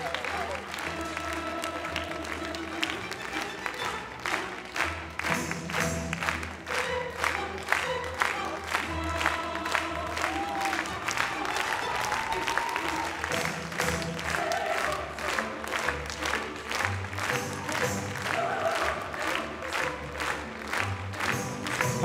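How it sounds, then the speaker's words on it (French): Spectators at an indoor show-jumping competition clap in rhythm to music during a lap of honour, a crowd's steady beat of applause over the music with scattered cheers and whoops. "Et puisque vous êtes en train de les applaudir, si vous le faisiez maintenant au rythme de la musique à l'occasion du tour d'honneur."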